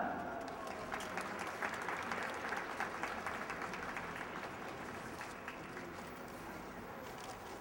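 A crowd at an outdoor rally claps and cheers in a dense, sustained wash of applause that slowly thins out.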